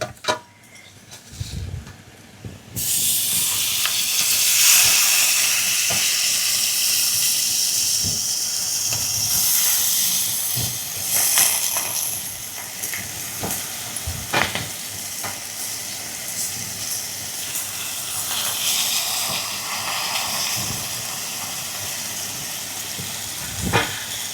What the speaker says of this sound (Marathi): तर आपली भाजी टाकून झाली आहे. व्यवस्थित फिरून घ्यायचं